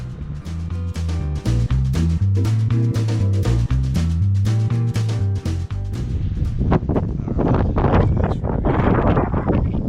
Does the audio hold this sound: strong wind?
yes